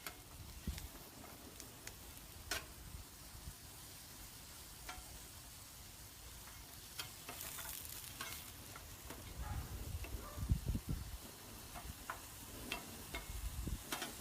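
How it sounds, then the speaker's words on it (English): Sliced daikon, Japanese radish, fries on a Blackstone griddle for Filipino sinigang soup, with a soft, continuous sizzle broken by scattered crackles, pops and occasional scraping ticks of a utensil, quiet and close with no talk. "Next one is going to be the Daikon, Japanese radish. Going to fry it up a little bit."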